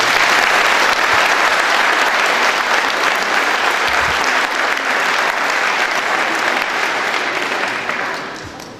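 A large audience applauds volunteers at a 2017 New Year's greetings ceremony in Callian, the steady, dense clapping filling the hall for about eight seconds before fading at the end.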